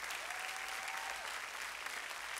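A crowd claps and cheers to honor a group, steady sustained applause filling the room at moderate distance, with no speech over it.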